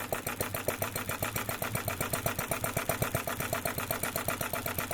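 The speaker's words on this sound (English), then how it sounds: "It's a good, powerful, simple, one-cylinder, four-stroke engine running on petrol or gasoline." A one-cylinder four-stroke petrol model engine runs wide open, firing in a fast, even, steady rhythm of rapid pulses with a buzzy mechanical rattle, loud and close without talk.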